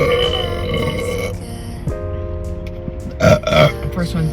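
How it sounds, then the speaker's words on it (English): A single long, loud, croaking burp close to the microphone inside a car, followed by a few short voiced sounds. "The first one's the best burp"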